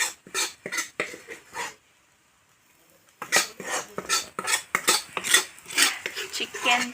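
Chicken pulao is stirred in a pot with rhythmic metallic scraping and clanking strokes, close and loud, with a short quiet pause partway through and no talking.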